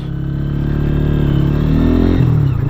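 A KPR200 200cc motorcycle engine heard while riding, a loud close steady rumble that slowly climbs in pitch as it accelerates, then dips briefly near the end.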